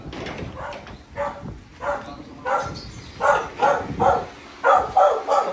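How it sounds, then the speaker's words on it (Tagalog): A dog barks repeatedly nearby on a street in the Philippines, a series of sharp barks coming in quick bursts, growing louder and more insistent toward the end. "Ang aso."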